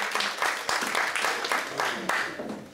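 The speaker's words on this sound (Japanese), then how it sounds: "それでは皆様拍手で" Audience applause at a Japanese-language lecture on Lee Teng-hui, welcoming the speaker: steady moderate clapping from a room of people, fairly close, with a few louder bursts throughout.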